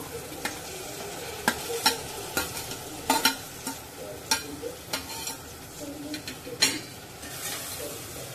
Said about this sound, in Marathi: शेवळा 1 ते 2 मिनिटं या मसाल्यामध्ये परतून घ्यायचे आहेत